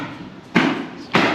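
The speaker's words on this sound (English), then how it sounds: "Have to excuse the loud noise. They're still putting shingles down" Roofers installing shingles hammer nearby, two loud sharp impacts about half a second apart over a low background hum, with no speech.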